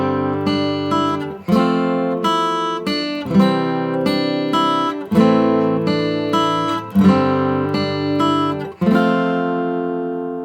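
Acoustic guitar in standard tuning plays the intro of a song, steady strummed and picked chords ringing close and clear, with regular changes and no voice.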